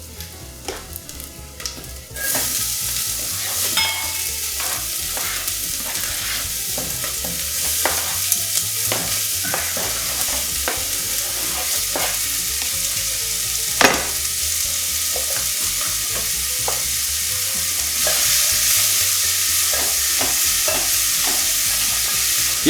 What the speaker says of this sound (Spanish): Y esto lo voy a seguir moviendo constantemente hasta que se empiece a suavizar